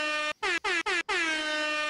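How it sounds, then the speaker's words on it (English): Four loud, blaring air horn blasts, three short and choppy followed by a longer sustained one, each with a slightly falling pitch. "There's an air horn for him."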